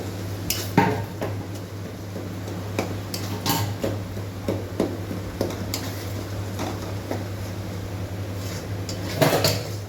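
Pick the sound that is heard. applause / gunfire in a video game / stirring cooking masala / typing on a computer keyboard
stirring cooking masala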